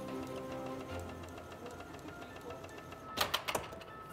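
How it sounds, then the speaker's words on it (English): A bakery divider rounder machine hums and whirs as it divides and rounds bread dough, a steady mechanical drone with tonal motor whine, closing with a few sharp clanks near the end. "this machine that I'm using here is called a divider rounder, and it does exactly that. It divides it, rounds it"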